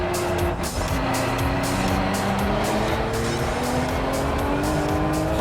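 Loud, sustained engine roar inside a fast car on a bumpy circuit, rising through the gears with climbing whine and tire noise, continuous and close with no voices.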